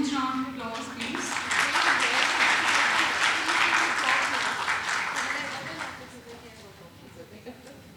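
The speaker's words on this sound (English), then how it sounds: "A huge round of applause, please." Audience applause at an Indian bar association's Constitution Day and annual awards ceremony, a dense sustained burst of clapping from a large crowd lasting several seconds before thinning out, with voices faintly under it early on.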